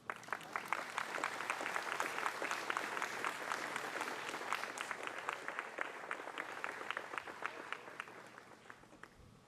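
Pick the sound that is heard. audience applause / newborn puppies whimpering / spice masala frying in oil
audience applause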